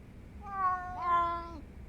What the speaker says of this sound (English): Sleepy kitty.